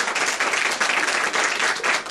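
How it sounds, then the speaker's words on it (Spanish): A crowd at a Mother's Day celebration in Lota breaks into strong, continuous applause, a full and fairly close burst of many hands clapping that holds steady for about two seconds. "Un fuerte aplauso a la señora Oriana."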